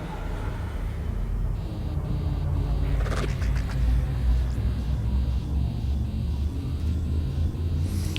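A steady low rumble builds as a spaceship's jump drive charges close to a sun in Elite: Dangerous, with faint pulsing tones and a brief crackle partway through.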